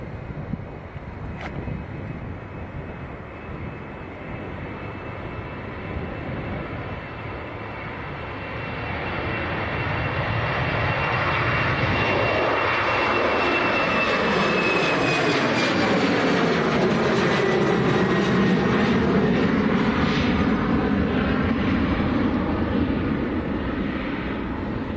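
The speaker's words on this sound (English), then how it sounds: "KLM to Amsterdam, it's on the roll now. This is an Embraer 190." A KLM Embraer 190 jet rolls down the runway on its takeoff run, its engine roar swelling steadily from a distant rumble into a loud, sustained, whistling thrust that fills the whole stretch.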